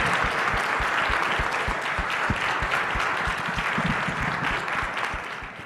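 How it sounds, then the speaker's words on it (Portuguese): Sustained applause from a conference audience at a business congress on women in leadership, a dense steady patter of many hands clapping close by, with no talk, fading slightly at the end. "Uma salva de palmas, senhoras e senhores."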